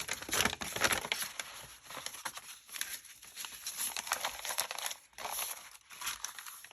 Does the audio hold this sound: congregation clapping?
no